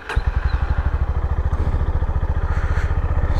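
A Honda CB350 motorcycle rides with a steady, loud, rapid engine thump pulsing evenly throughout, close and constant with no speech.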